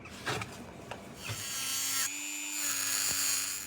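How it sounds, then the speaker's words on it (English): A small Dremel rotary tool with a cut-off wheel cuts into a Mercedes R107 cold start injector, giving a rising high whine after a few scraping handling sounds, close and fairly quiet, with no talking. "we're going to use a little Dremel tool with a cut-off wheel just to cut the end off"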